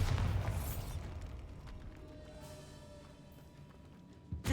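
Bombarda spell blast in Hogwarts Legacy inside a tomb, a heavy low boom opening loudly and decaying into a long rumbling tail, with a second soft thump at the very end.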